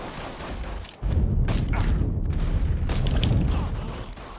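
Gunfire in a Mafia III shootout erupts into a dense, loud barrage of overlapping shots and booms that continues almost without a break.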